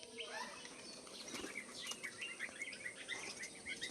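Pigeons flying back in to a farm loft with a flurry of flapping wings, fast rustling bursts mixed with high chirps and tweets from birds nearby, steady throughout.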